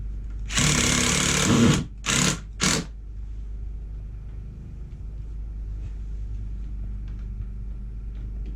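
Power drill driving screws to reinstall a cover plate on an RV air conditioner, three close bursts of whirring, one longer and two short, followed by quiet low room hum.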